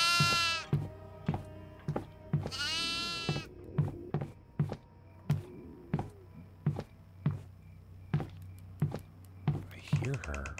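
Goat bleats in the horror video game Devour, two long wavering cries early on among regular thumping footsteps and faint whispery sounds, fairly close and clear.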